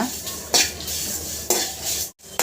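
Fenugreek seeds and dried chillies are dry roasted in a pan, with repeated scraping and stirring strokes of a utensil and soft rattling of the seeds, close and clear with no talk.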